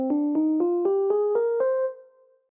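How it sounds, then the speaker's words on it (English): A minor scale played one note at a time on a pitched instrument, seven evenly spaced notes climbing steadily with the last held and fading, clear and alone with no talk. "and the minor scale, which sounds like this."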